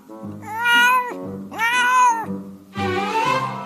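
A person imitates a cat, voicing three drawn-out meows in a row, each with a rising and falling pitch, loud and close with short pauses between them.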